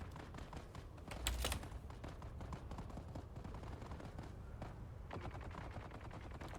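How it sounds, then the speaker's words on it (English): Rapid bursts of gunfire from players shooting at one another in the video game Dune: Awakening, sharp reports crackling continuously over a dense, noisy battle background, some shots closer and louder than others. "I hear people shooting at one another."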